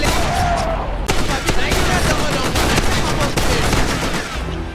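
Sustained, loud video game gunfire from weapons such as a FAMAS and AK-47, with dense rapid shots overlapping into near-continuous automatic fire that holds steady for several seconds.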